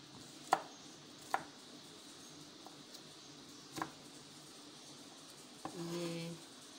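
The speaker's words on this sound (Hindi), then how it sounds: "देखिए इस तरह से आपने इसको बारीक बारीक काट लेना है" A knife chops vegetables finely for a vegetable omelette, a few sharp distinct knocks spaced irregularly on a board, close and clear, followed by a short burst of scraping or sizzling.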